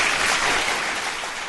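Steady, dense applause from a live audience at a dating coach's talk, a broad even wash of clapping that holds at full level for the whole stretch with no voices on top.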